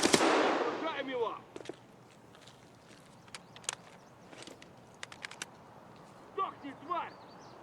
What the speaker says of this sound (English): A few more seconds pass and he shoots the wall again,